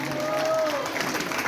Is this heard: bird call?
no